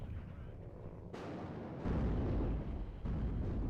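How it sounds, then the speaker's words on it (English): Smoke mortar shells landing in the WARNO real-time strategy game, heard as dull, rumbling low thuds and bursts that swell into a continuous booming wash, with a sharper impact near the end. "Only smoke mortars here currently coming in."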